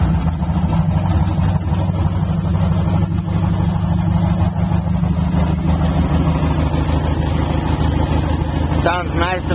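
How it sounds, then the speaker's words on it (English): A car engine idles with a deep, rumbling exhaust, steady and loud throughout. "Got a good exhaust on it."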